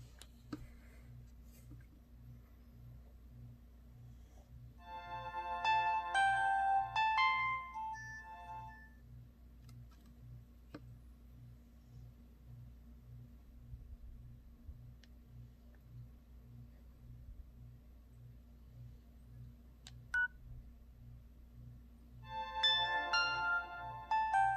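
A cheap AT&T Go phone plays its start-up and shut-down tones, two short bright electronic melodies separated by a long gap, over a steady low ticking hum.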